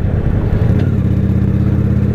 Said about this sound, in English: on my motorcycle